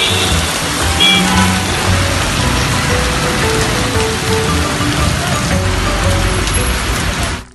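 Heavy rain pours steadily in the Cuddalore area, a dense, loud hiss of drops hitting surfaces without letup, close and continuous until it cuts off at the end.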